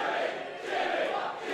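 A wrestling crowd at an independent Monsters Ball match roars and chants for Jimmy Havoc, a dense, sustained wash of voices with no single speaker standing out.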